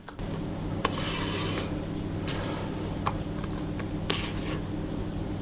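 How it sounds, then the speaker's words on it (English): A spatula folds flan batter in a mixing bowl, giving soft scraping and rubbing strokes with a few light clicks, steady and close throughout. "I'm going to use a spatula just to fold that in to make sure it's all mixed thoroughly"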